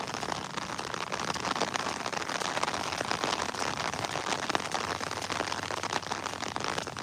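Rain falls over sugarcane fields, a fine steady hiss of drops pattering on surfaces, faint and even throughout with no voices.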